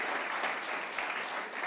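Audience at a mayoral debate in Farnham applauding the moderator, a dense, sustained wash of clapping from many hands filling the room.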